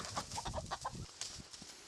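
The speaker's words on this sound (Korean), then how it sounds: "가장 먼저 반겨준 것은 누렁이 한 마리와 산책 나온 닭과 오리떼." Chickens and ducks roaming a remote mountain village in Korea, with a few soft clucks and short calls rising over faint outdoor background for a couple of seconds.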